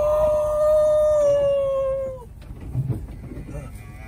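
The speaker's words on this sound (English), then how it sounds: "Somebody wants some gentle heifers to make a tremendous set of cows." A long, loud, sustained bellow from Brangus heifers with a steady tone lasting about two seconds, then trailing off into background rustling and a low rumble.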